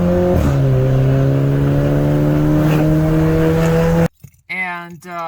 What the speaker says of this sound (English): And then I had myself a 2006 MK4 GTI